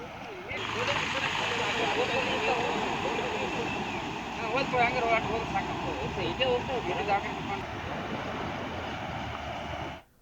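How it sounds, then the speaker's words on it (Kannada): The Doni river runs in flood after heavy rain in Koppal, Karnataka, its water rushing past as a dense, steady roar that stays loud and unbroken from start to end. "ಡೋಣಿ ನದಿಯಲ್ಲಿ ನೀರು ತುಂಬಿ ಹರಿತಾ ಇದೆ"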